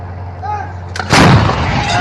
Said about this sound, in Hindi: इजराइल की आर्टिलरी और तोपें सीधा लेबनान के अंदर तक घुस चुकी हैं।